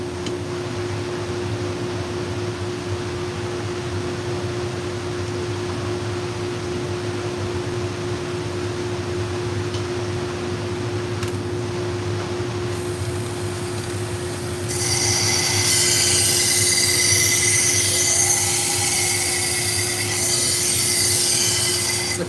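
AMK 75 knife sharpening machine running while kitchen knives for a high school culinary program are sharpened: a steady electric hum, then a loud, bright grinding rasp when the blade meets the abrasive partway through.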